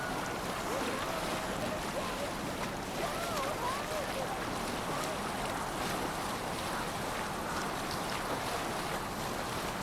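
A Viking longship glides over open water in Assassin's Creed Valhalla, a steady wash of waves and wind noise running continuously at moderate level with no distinct breaks.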